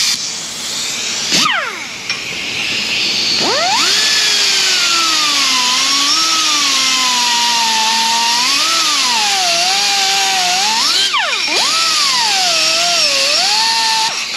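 A power tool grinds a notch out of a metal bracket with an old weld left on it, a loud sustained whine that rises and dips in pitch as the cut bites, with brief pauses near the start and end.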